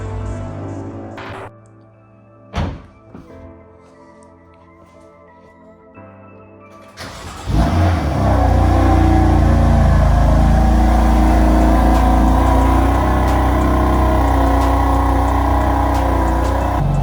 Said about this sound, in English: When she fires it up, it's not going to have all the valves open, so it won't be as loud